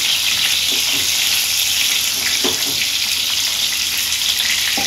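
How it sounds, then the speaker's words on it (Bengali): Potatoes frying lightly in hot oil in a pan, a loud steady sizzle filling the whole stretch with a few faint clinks of stirring, no talking. "আলুটা একটু হালকা মতন ভেজে নেব"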